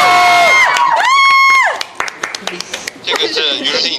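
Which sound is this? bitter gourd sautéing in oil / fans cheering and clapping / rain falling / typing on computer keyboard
fans cheering and clapping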